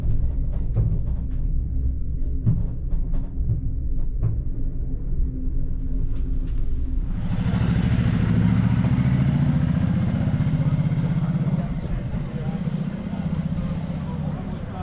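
A BMW touring motorcycle on a European spring trip: a few faint clicks over a low hum, then the engine swells into a deep, continuous rumble as the bike rolls away and keeps riding.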